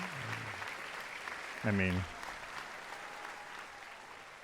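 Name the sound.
studio crowd applause, sounding distant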